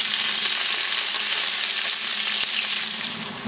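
Sliced onion hits about three-quarters of a cup of hot oil, giving a loud, steady frying sizzle that holds broadband and continuous throughout, with no talking over it.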